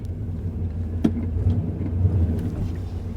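A truck stuck in mud, its engine rumbling low and revving in surges, with a sharp knock near the start, close and alone.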